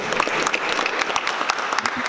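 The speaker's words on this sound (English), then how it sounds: "I give a round of applause for Brian for showing up today" Audience applause at a panel discussion on gentrification in Richmond, a steady clatter of many hands clapping close by with a faint murmur of the crowd underneath.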